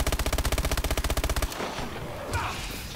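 Rapid automatic gunfire mows down zombies in Call of Duty Exo Zombies, a loud, close, evenly spaced burst lasting about a second and a half before fading into game noise.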